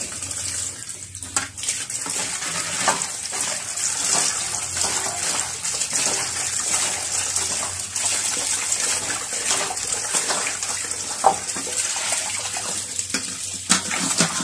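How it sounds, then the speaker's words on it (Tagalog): Kitchen tap water runs steadily and close while kangkong leaves are washed in a bowl, with splashes and brief surges over the constant flow. "So buksan ko ng gripo guys."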